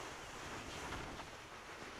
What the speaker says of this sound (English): is your river super loud like mine?